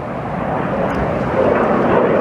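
A fixed-wing airplane flies over the Blackpool promenade on a hot summer day, its steady engine drone loud and continuous, swelling slightly toward the end.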